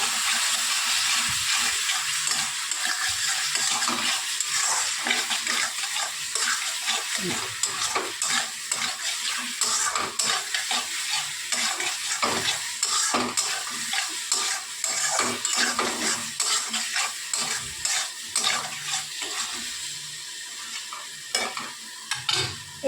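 Fried potato pieces are sautéed in a pan for a fish roe curry, with a constant sizzle broken by frequent scraping and clinking stir strokes that stay close and continuous throughout.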